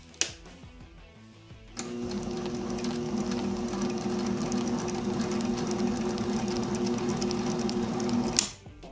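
An MR300 mini lathe runs in reverse while cutting a thread. After a short quiet start, a steady mechanical hum with a faint rattle kicks in and holds evenly until it cuts off near the end.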